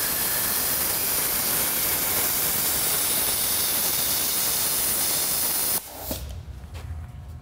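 Hypertherm Powermax 30 plasma cutter gouging out an old weld in steel, a loud, steady hissing roar of gas and arc for several seconds that cuts off abruptly into quieter shop ambience.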